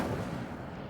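A fire spell cast in Hogwarts Legacy, heard as a dense, rumbling whoosh of flame that sustains for about a second, loud and broadband with a heavy low end, and no talking over it.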